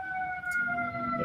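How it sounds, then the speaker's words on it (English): A distant emergency vehicle siren holds steady tones and rises slightly as it passes outside, heard faintly behind an indoor setting. "pardon the siren"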